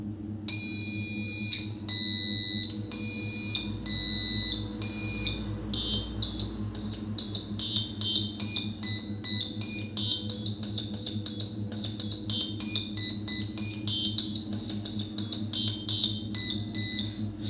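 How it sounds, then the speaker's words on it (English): Electronic buzzer on a breadboard circuit sounds a loud, shrill, steady electronic tone, first in long sustained bursts, then switching to rapid choppy pulses with shifting pitch as a switch is pressed, alone without talk. "when I'll press the switch, we should hear a buzzing sound on this buzzer"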